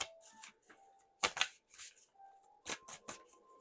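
Tarot cards being shuffled by hand in several separate bursts of riffling and flicking, close and fairly quiet, with brief pauses between them and no talk.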